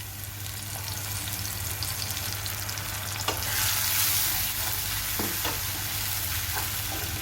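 Tomato paste and ginger garlic paste fry steadily in a pan with a constant close sizzle. A few soft stirring scrapes and clicks sit on top of it, and the hiss swells slightly partway through. No one speaks.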